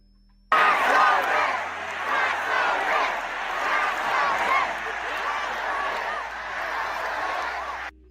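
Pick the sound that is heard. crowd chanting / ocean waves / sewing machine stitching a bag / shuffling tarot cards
crowd chanting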